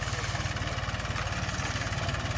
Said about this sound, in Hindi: ये ट्रैक्टर है